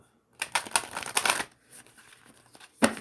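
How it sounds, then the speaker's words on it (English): A deck of cards is shuffled in several quick riffling bursts, close and fairly loud, then a brief pause and one last snap of the cards. "That was a loud shuffle."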